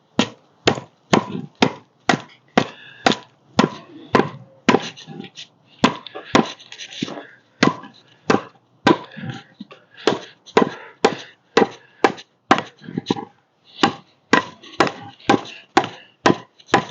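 Steady, loud, close knocks of a wooden mallet driving a gouge to rough out a carved wooden batea, struck in a regular rhythm of about two blows per second with no pauses.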